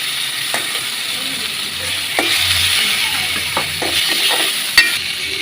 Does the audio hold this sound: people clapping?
no